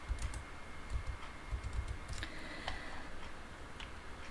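Fingers type data into an Excel spreadsheet on a computer keyboard, a quick irregular run of soft clicking keystrokes close by, with no talking.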